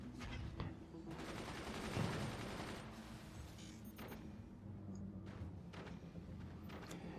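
Faint machine gun fire rattles in the distance in a co-op strategy video game, quiet bursts over a low rumble of battle, with no talking.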